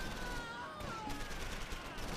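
Bursts of gunfire rattle through a Close Combat battle, sustained crackling shots mixed with background game noise, fairly loud with no speech.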